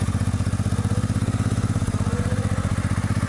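A motorcycle engine drones steadily while riding on the road toward Málaga, a close, loud, rhythmic pulsing throb with no voices over it.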